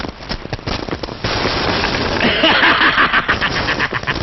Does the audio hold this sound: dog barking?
no